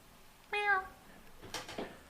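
A cat gives a single short, clear meow close by, followed by a couple of faint rustling sounds.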